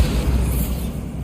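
A Bombarda blasting spell in Hogwarts Legacy lands as a short, deep booming explosion with a rumbling low-end tail that fades quickly.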